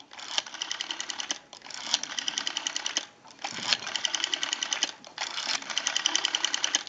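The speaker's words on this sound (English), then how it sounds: "We have a nice smooth return on our rotary now." A North Electric Ericofon rotary telephone dial spins out and returns several times, each return a rapid ticking burst of clicks separated by short quiet gaps.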